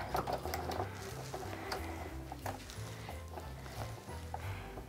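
A sewing machine runs steadily while stitching a charm pack Christmas stocking with a generous quarter-inch reinforced seam, a continuous mechanical hum with a rhythmic low pulse throughout, close and moderately loud.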